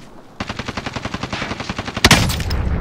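Rapid automatic gunfire in the video game Call of Duty Warzone, a loud steady burst of about a dozen evenly spaced shots followed by a sharper heavy blast and ringing tail, close and dominant.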